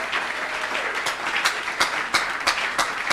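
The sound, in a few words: congregation applauding in church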